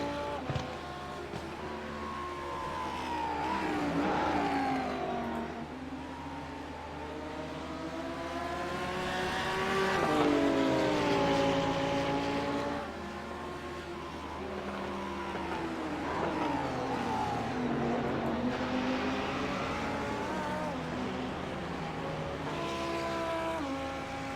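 GT3 race cars lapping the Imola circuit, engines rising and falling through gears as several cars pass in waves, a steady loud roar with shifting pitch and no talk over it.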